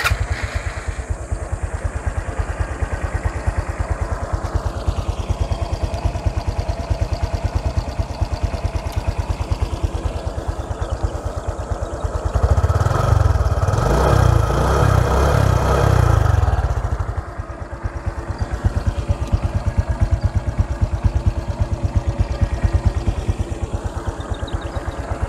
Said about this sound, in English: All stock. Engine sound.